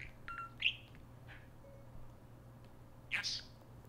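A parakeet gives a few short, sharp chirps, loudest near the start and again toward the end, over a low steady indoor hum.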